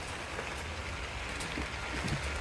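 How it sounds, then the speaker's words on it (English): Rain falls steadily outside a greenhouse, a dense even patter on the surfaces that stays constant and moderately loud, with no one speaking. "It's raining right now."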